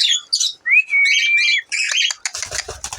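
Pet aviary birds, a male and female pair, chirp and whistle loudly at close range, with one long sliding whistle followed by rapid overlapping tweets and squawks.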